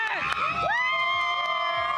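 A stadium crowd at a Dodgers celebration cheers and whoops loudly for a woman's 30th birthday, a continuous mass of shouting voices with high excited calls rising above it.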